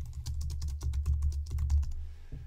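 Rapid, steady run of computer keyboard key presses close up with no voices, the clicks stopping just before the end.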